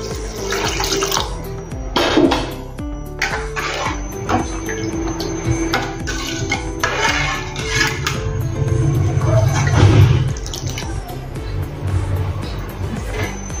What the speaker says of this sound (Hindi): अब इसमें हम पानी डालेंगे।